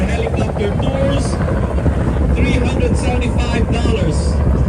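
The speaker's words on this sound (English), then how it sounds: "This is our heliport and these are helicopter tours." Tour helicopters at a Hudson River heliport in New York produce a steady, loud rotor thrum and whine, heard from a boat with a person talking throughout.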